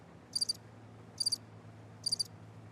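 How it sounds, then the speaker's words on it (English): Crickets chirping indoors, three evenly spaced bursts of rapid high trills, each made of a few quick pulses, fairly faint over a low background hum with no talking. "We thought she was good with crickets."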